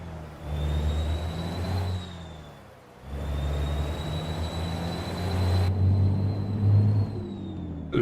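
A modded heavy truck engine in American Truck Simulator drones steadily, revving and shifting through gears with a brief drop in load, plus a continuous high whine above the low rumble.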